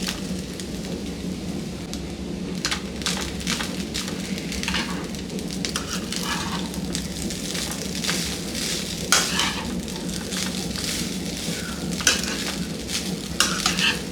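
Rice tipped into a pan for coconut rice and stirred, a steady rushing sizzle with scattered scraping and clattering of the spoon, close and continuous, with no talking.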